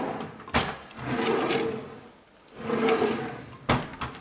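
Kitchen drawers in a refurbished apartment slide open and shut twice, each a rumbling glide ending in a sharp knock, fairly close with a brief quiet gap between.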